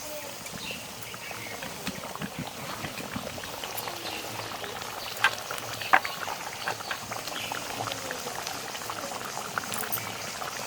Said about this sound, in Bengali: অল্প কিছুক্ষণ ফুটলেই নামিয়ে নেব